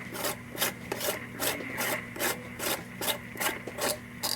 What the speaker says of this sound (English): when I put this on before, I start hearing this weird, like, grindy noise.